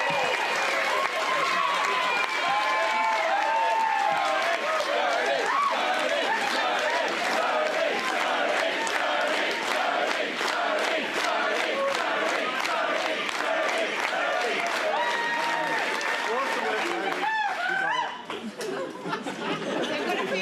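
Crowd at a political event welcoming the new member for Dunkley, with dense chatter, cheering and clapping blending into a sustained loud roar that continues unbroken for about twenty seconds before briefly dipping near the end.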